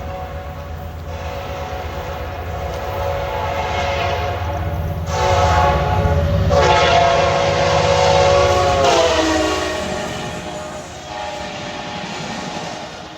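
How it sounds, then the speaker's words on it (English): An Amtrak passenger train passes near the tracks in Thomasville, North Carolina, its loud horn blaring in several long, steady blasts over the continuous rumble and clatter of the cars, with no talk. "looks like we got an Amtrak here"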